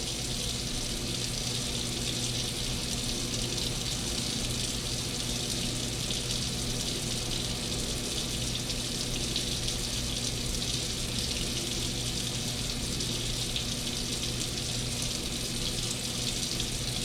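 A condo bathroom sink tap runs full and steady as the water is left on to warm up, a loud, unbroken rushing and splashing with no talk over it.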